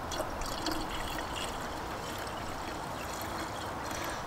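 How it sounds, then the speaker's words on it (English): Water is poured steadily into the coolant reservoir of a Mercedes W203 C220 CDI, making a continuous close trickling stream without pause. "I'm just topping up with a bit of water."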